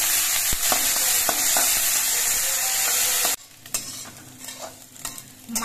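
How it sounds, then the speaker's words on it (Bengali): Small fish heads fry in a pan over a lowered flame, first under a loud dense sizzle, which then drops suddenly to a quieter crackle with soft scraping stirs. "এবার গ্যাসের ফ্লেমটা কমিয়ে দিয়ে মাছের মাথাগুলো ভেজে নিতে হবে"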